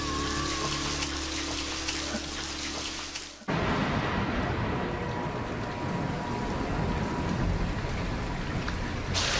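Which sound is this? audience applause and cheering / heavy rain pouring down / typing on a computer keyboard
heavy rain pouring down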